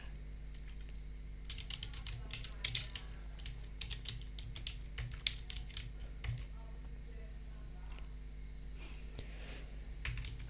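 Quiet keystrokes on a computer keyboard while searching for food listings on a marketplace site, soft irregular clicking in short bursts over a steady low hum, faint and close.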